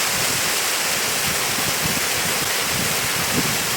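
Water pours steadily down the Gürgüre waterfall in Yukarı Civanlı village, a dense, continuous roar that stays loud and unbroken for the whole stretch with no voices over it.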